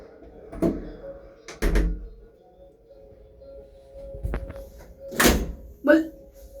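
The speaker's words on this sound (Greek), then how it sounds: "Ανοίξει η πόρτα χωρίς πλάκα." Elevator door opening while people are stuck in a lift, heard as a few separate thunks and a sliding rumble with a steady hum underneath, while people talk nearby.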